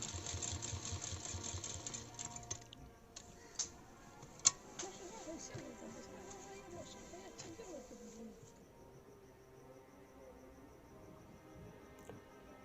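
Sewing machine stitching a kurti with small, fine stitches, a fast steady rattling run that is quiet, with a few sharp clicks. The whirring stops partway through and a faint room tone remains.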